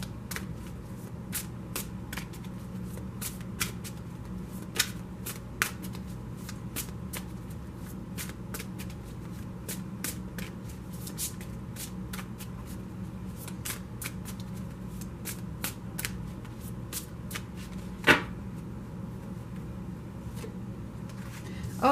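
Tarot cards being shuffled by hand, a long run of crisp riffles and soft card slaps in an irregular rhythm, close and fairly quiet against a low steady room hum.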